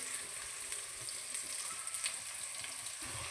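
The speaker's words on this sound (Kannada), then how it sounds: "ನೋಡಿ, ಈ ಲೆವೆಲ್ಗೆ ಆನಿಯನ್ ಬೇಯಬೇಕು." Onions fry in a pan for egg curry, giving a steady, close hiss and crackle with soft spoon stirring scrapes under it and no talking.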